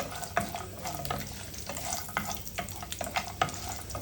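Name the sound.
sautéing walnuts and almonds in a pan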